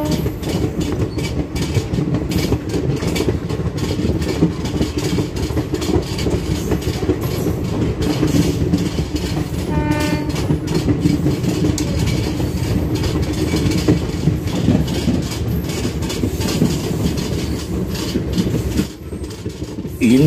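The Chennai to Sainagar Shirdi Express on the move, heard from aboard: a steady, loud rumble of wheels on rails with rhythmic clickety-clack and a brief squeal partway through, with no talk.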